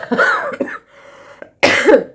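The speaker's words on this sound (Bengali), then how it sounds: "সরি আমার এখনও কাশিটা ভালো করে সারেনি" A person with a lingering cold coughs twice, the harsh bursts close and loud, separated by a short pause with a faint breath between them.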